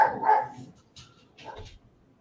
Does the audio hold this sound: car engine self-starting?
no